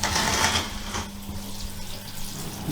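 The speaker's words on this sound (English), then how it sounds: "I can see it all draining out the bottom," Dirty water splashes and drains steadily through a mesh sieve rinsing hydro balls for a gecko terrarium, with a brief louder rush at the start, then a continuous trickling flow and faint clinking.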